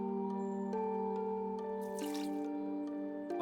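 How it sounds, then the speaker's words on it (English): In the game Omori, a watering can pours onto plants, giving one brief, hissing splash of water midway over a steady musical backing, with no voices. "go ahead and water the plants"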